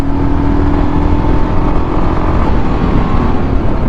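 Royal Enfield Scram 440 motorcycle accelerating through the gears, with a loud, close, continuous engine roar and rushing wind noise from the rider's position.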